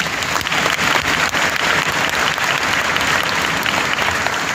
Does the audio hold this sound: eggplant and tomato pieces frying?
no